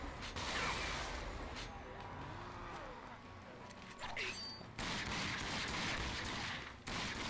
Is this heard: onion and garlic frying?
no